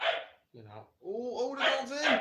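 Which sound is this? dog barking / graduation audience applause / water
dog barking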